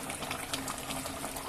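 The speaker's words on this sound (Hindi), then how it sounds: "तो हम पानी मिलाते हैं इसमें" Water pours into a pot of cooking mutton to make gravy, giving a continuous bubbling, splashing rush that holds steady throughout the short moment with no voices.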